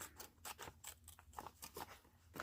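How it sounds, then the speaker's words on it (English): Scissors snipping through envelope paper in a series of short, crisp cuts, close and fairly quiet, with no talking over them. "And then I cut this part here."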